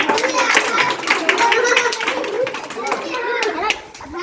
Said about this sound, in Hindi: बहुत सही, ताली बजाओ